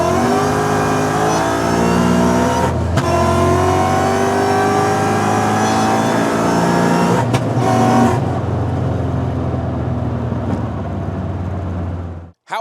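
Ford Mustang on a test hit, engine roaring hard as it accelerates through climbing gears with brief shift breaks, loud and close before cutting off and fading.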